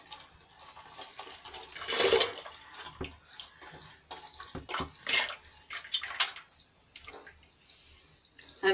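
Dal poured into hot water in a pressure cooker, with splashing and pouring bursts and small drips, sometimes louder, heard close with no voices.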